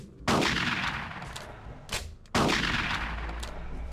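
Two booming shotgun blasts, about two seconds apart, fire at a charging dinosaur in the Carnivores hunting game, each a sharp loud report with a long rolling tail.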